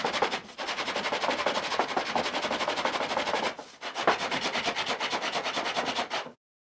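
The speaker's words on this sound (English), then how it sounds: "I fill some imperfections with wood filler and sand the inside of the frame thoroughly." Sanding by hand along the inside of a round oak wooden frame, a steady rhythmic scratching of abrasive on wood that runs nearly continuously, with a short pause partway through, close and fairly loud.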